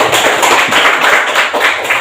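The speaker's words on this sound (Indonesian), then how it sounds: "Tepuk tangan semuanya" A microteaching class applauds a student group after their presentation, a short loud burst of close clapping from a small group, dense and even across two seconds with no voices.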